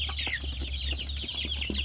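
Chickens cluck busily and close by as they eat fermented cassava feed on a low-cost poultry farm, with a continuous low hum underneath.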